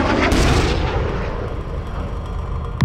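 Artillery fire in a macabre wartime scene: a loud, dense boom opens and rolls into a long, heavy rumble, with another sharp blast striking at the very end.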